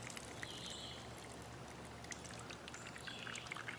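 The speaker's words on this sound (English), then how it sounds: "go on and just fill it on up and let it go." Water pours steadily through a homemade survival water filter, a continuous splashing trickle with faint higher drips, fairly quiet and heard alone.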